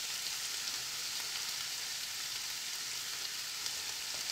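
Red chili powder and other spices sauté in hot oil for paneer sabzi, giving a steady, even hiss of frying that stays quiet and close throughout, with no talking.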